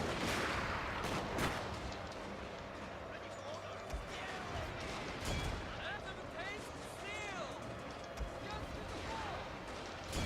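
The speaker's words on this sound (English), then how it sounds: "So have them fire off a few rounds." Troops fire off rounds during a castle assault in the video game Fall of the Samurai, a few sharp distant cracks and booms over busy battle noise, with someone talking throughout.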